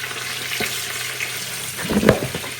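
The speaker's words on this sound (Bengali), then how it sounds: "এখানে মাছ ভাজি হয়ে গেছে।" Fish fries in hot oil with a continuous soft sizzle, broken by a few sharper crackles and spatters, including one louder burst near the end; no one speaks.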